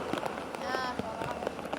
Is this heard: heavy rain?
yes